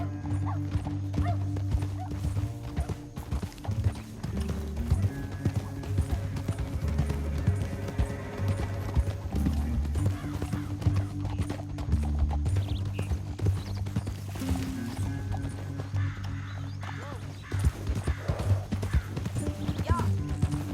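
Horse hooves clip-clop steadily over a dense backdrop of music and game noise in Red Dead Redemption 2, with a whinny and other effects mixed in.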